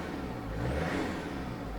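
A 1995 Toyota Hiace 4WD turbo diesel revs up, a steady close mid-range engine drone that rises briefly and settles, with no talking.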